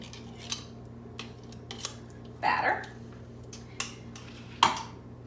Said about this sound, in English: I'm going to go ahead and mix this up.